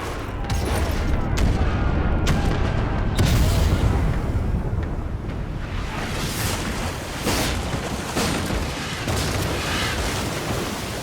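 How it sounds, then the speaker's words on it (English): Naval ship cannons firing in a video game, a rolling volley of deep booms and blasts with several sharp reports over a sustained rumble, loud and dense throughout. "Fire the starboard cannons."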